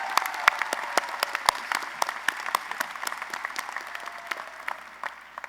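An audience at the Spring 2023 College of Social Work commencement ceremony applauds, with many distinct claps at first that thin into a lighter, scattered patter toward the end.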